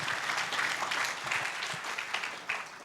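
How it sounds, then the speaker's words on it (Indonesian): A church congregation claps together during a worship service, a steady wash of applause at moderate distance that fades slightly toward the end of the short burst. "Mari kita berikan tepuk tangan buat Tuhan."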